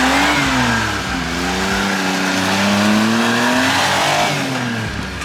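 A JDM mini truck's engine revs hard in low gear on snow, the pitch climbing and dipping across steady loud revving that fills the clip with no talk.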